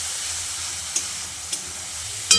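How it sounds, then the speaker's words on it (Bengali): Spice paste with Kashmiri chilli powder sizzles steadily in a pan for a Bengali hilsa fish curry with potato and eggplant, a close continuous frying hiss broken by a few sharp clicks of a spoon stirring against the pan. "এবার মশলাটাকে খুব ভালো করে কষিয়ে নিতে হবে।"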